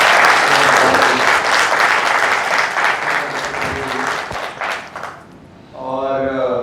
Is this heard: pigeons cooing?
no